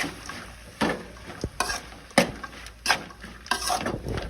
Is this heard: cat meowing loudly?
no